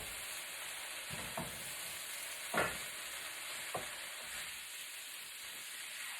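Vegetable lo mein noodles tossed in a hot wok give a steady faint sizzle with a few soft scraping, clattering stirs spaced a second or so apart, no talking.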